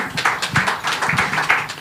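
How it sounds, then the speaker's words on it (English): Audience applause at an industry panel on gas and infrastructure in Nigeria, a steady patter of hands clapping from a moderate crowd, fairly close and continuous with no talk. "Please let's give her a warm round of applause."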